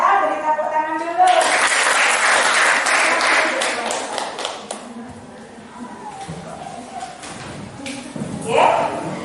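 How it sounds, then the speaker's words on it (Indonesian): A group of students in a classroom bursts into applause, a few seconds of steady clapping close by, followed by people talking. "beri tepuk tangan dulu"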